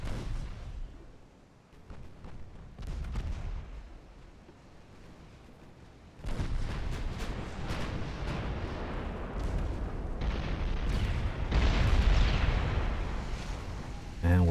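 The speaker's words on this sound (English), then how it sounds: "You are engaging my light cruisers, are you? With your 11-inch guns?" In the naval video game Ultimate Admiral Dreadnoughts, 11-inch and 12-inch guns fire as deep, rumbling booms. The rumble swells into a continuous roar of distant salvos partway through and stays loud to the end.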